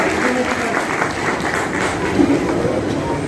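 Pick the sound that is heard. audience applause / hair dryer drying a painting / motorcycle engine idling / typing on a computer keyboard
audience applause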